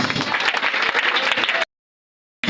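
A church congregation breaks into loud, dense applause and clapping for about a second and a half, then it cuts to silence before a brief return at the very end.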